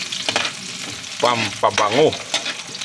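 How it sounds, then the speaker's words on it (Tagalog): Ginger, garlic and onion sautéing in a pan for chicken tinola, a close crackling sizzle with stirring knocks while a person talks over it briefly. "Gisa na tayo guys ng loya, bawang at sibuyas."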